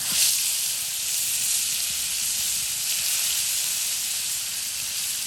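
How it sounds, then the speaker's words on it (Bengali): Fresh fish frying in hot oil in a wok, a steady close hiss and sizzle running without a break throughout, with no talk over it. "করাই গরম হচ্ছে তাজা মাছ দাও তেল গরম আছে"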